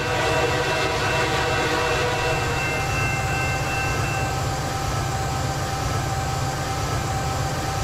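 Amtrak GP40-2 diesel trains run in the Transport Fever game, a steady loud engine rumble with rail noise and faint horn-like tones throughout.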